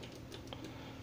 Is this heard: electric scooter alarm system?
no